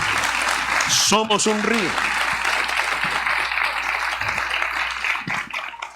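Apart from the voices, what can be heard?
applause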